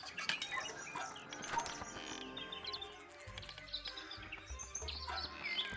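Birds chirping and tweeting in the Tangle Tower game, scattered through a dense musical backdrop, with no talking.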